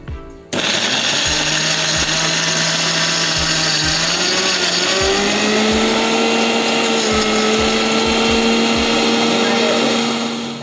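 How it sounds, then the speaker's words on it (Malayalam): A mixer grinder whirs loudly as it grinds spices with salt for a homemade burger mixture, starting abruptly and holding a steady high-pitched motor whine with rattling blades and a slight pitch shift midway. "നമുക്കെല്ലാം കൂടെ മിക്സിക്കകത്തിട്ട് അടിച്ചെടുക്കാം."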